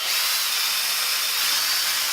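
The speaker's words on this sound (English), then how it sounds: "just drill out the pop rivet that holds the" Drill bores out a pop rivet on the soft-top tensioning wire of a Lotus Elan M100, a steady high-pitched grinding whine that stays loud and close for the whole span with no pauses.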